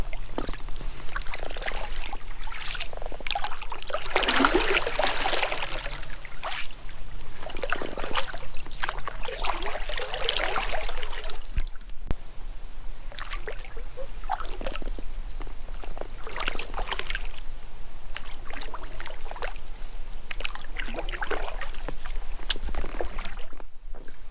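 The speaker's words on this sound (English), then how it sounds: "tired of paddling all over" Canoe paddling on a lake on a fall camping trip in Arrowhead Provincial Park, with repeated soft splashes and drips of paddle strokes against a steady outdoor hiss, close by and fairly quiet, with no talking.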